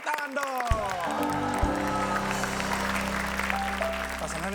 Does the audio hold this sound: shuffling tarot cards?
no